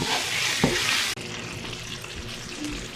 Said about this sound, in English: Now mix all of this and we will fry this for another 40 seconds to 1 minute at a low flame.